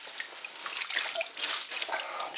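Fabric pants are rinsed under warm running water, giving a bright, continuous splashing and trickling close by, with small drips and gurgles and no talking.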